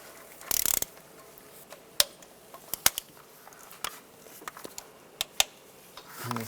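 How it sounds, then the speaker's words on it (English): A 12mm socket ratchet loosens nuts and bolts on the lower intake of a 1996-2002 Toyota 4Runner, giving scattered sharp clicks and ticks, close and irregular, with one brief rattling burst near the start and no talk. "I'm going to use a 12mm socket. I'll just loosen them all up first."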